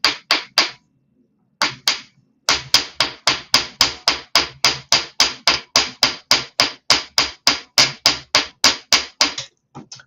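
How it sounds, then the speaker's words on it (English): A hammer strikes wire laid on a padded block in a steady, fast run of loud, sharp taps, with a few scattered blows and a short pause before the long even series. "So I'm going to hammer with this on"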